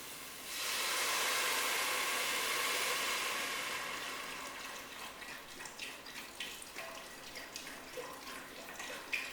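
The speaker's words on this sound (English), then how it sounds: "Right, let's add the stock. About 2 pints of stock." About two pints of stock pour into a soup pan for carrot and coriander soup, a loud rushing pour for a few seconds that fades into scattered splashes and drips.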